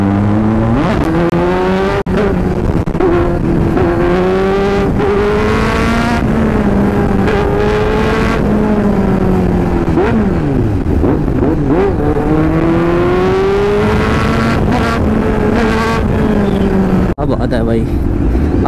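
A Kawasaki H2 superbike engine pulling in third gear, a loud, continuous rising and falling engine drone with shifting pitch as the bike rides along, with someone talking over it.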